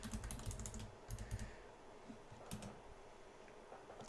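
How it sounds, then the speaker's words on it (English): Soft, fast typing on a computer keyboard while a password is entered, quick irregular clicks clustered early then sparser, faint and close with no talking. "I'm fat fingering my password as I'm typing or talking."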